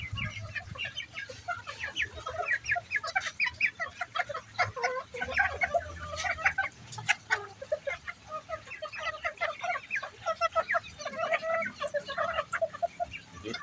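Bantam chickens cluck continuously and busily close by, many birds overlapping, with a low background rumble throughout.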